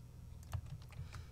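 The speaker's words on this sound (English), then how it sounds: "I'll perform a find function on the keyboard for 8109" Soft, quick key presses on a computer keyboard, a few faint taps in an uneven rhythm over a low background hum.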